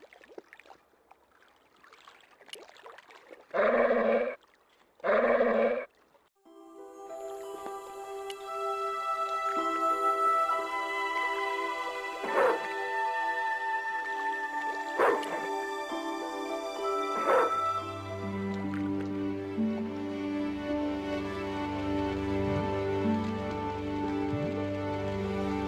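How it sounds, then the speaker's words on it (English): Dog barking and whimpering in the Broken Sword 2: The Smoking Mirror video game, set in Marseilles: two loud, close barks early on, then a denser stretch of game sound with tonal, whining cries over ambience. "With that crazy dog around?"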